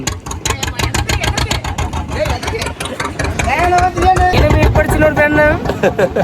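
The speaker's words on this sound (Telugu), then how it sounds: "మొత్తానికి అయితే ఇంజిన్ మొదలైపోయిందండి." A boat engine chugs steadily up close, its rhythmic thumping continuing throughout while voices sing or talk over it.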